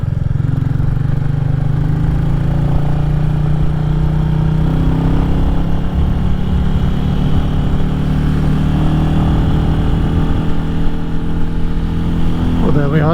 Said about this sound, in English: this is quite a steep hill, and the little 350 is accelerating up here